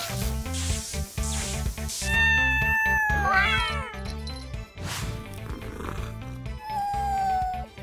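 A cartoon cat meows and caterwauls repeatedly over loud, busy background music, with drawn-out, sliding cries clearly audible throughout.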